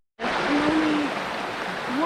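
Water rushes and splashes on a water slide in a continuous close spray, starting abruptly, and a voice calls out briefly over it.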